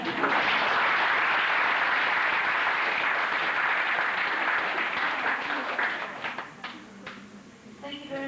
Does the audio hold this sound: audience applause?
yes